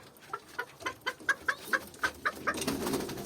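Pigeons in a loft, including a young Belgian hen, giving a run of about ten short, evenly spaced coos and clucks up close, ending in a softer rustling murmur.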